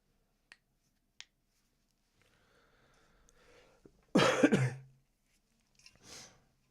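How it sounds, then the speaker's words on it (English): A sick person coughs once, a short burst at close range with a raspy tail, preceded by a couple of sharp clicks and faint breathing, followed by a softer throat sound. "if I'm coughing more than usual or whatever"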